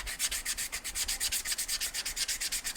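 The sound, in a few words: sanding glazed motorcycle brake shoes with 80 grit sandpaper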